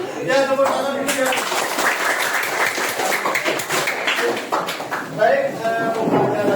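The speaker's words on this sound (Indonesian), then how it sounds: "Ya, tepuk tangan dulu ya." Students in a classroom clap their hands together in a rapid, scattered burst under a teacher's voice, with talk continuing before and after the clapping.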